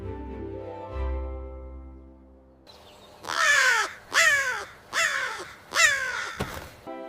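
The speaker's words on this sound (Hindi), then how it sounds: "The crow is flying." Crow cawing in four loud, harsh calls spaced about a second apart, closing with a short sharp click, after a quieter tonal passage.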